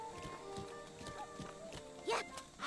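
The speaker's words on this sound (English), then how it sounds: "I'm going to call my horse, who has the ancient bridle." A horse in Zelda: Breath of the Wild clip-clops at a quick, steady pace in a brief burst, ending with a short whinny-like sound.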